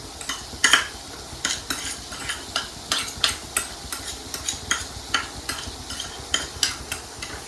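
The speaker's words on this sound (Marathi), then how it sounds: "आता ही पुदिना आपल्याला याच्यामध्ये चुरगुळ टाकायचा चुरगुळून असं ह्या तेलामध्ये" Mint leaves are crumbled into hot oil and stirred in a pan, giving a soft steady sizzle broken by regular metallic scrapes and taps of a spoon, with no one talking.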